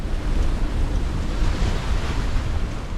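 Ocean waves surge and wash around a sailboat during a rough North Atlantic crossing, a loud continuous roar mixed with heavy wind buffeting the microphone.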